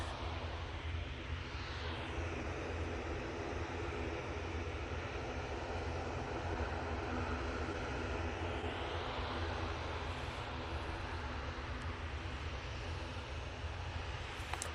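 A Ryanair airliner bound for Belfast passes at a distance, its engines making a steady, continuous roar that holds level throughout with no voices over it.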